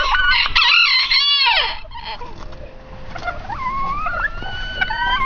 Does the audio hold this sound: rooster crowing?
yes